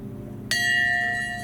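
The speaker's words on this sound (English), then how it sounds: "Whoa, I just rung the bell." A single strike on a metal service bell in an abandoned cafe restaurant in Rouen rings out sharply and clearly, its bright tone sustaining and slowly fading over the next second.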